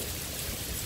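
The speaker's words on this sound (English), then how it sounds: "Hallelujah, it's raining" Steady, soft hiss of rain falling, a continuous wash of patter with no distinct drops standing out.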